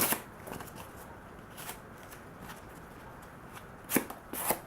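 A small paring knife slicing through thick cardboard, scattered crisp scraping and tearing bursts at the start and near the end, separated by quiet stretches of low background noise.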